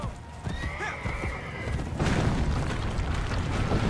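Horse whinnies and hoof clip-clops in the video game Assassin's Creed Brotherhood, a shrill neigh near the start over galloping hooves, then a louder, denser rumble of hoofbeats and action noise from the two-second mark on.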